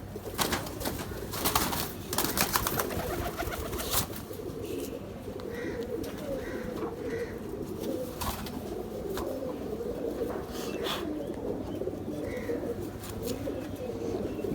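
Jonsla pigeons coo in a loft, soft repeated throaty calls over a steady background hum, with a few sharp clicks and rustles near the start.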